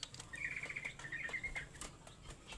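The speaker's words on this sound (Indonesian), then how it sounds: "Burung masih muda ya bosku." A young caged songbird gives a brief string of rapid, thin chirps, mixed with soft wing flutters and light rustling nearby.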